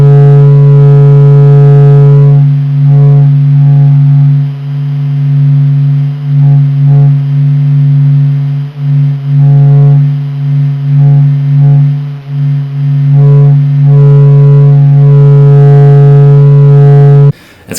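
A low, steady humming rumble presented as the sound of the sun: one unbroken, loud droning tone with layered overtones that holds for nearly eighteen seconds with only slight wavering, with no voices over it.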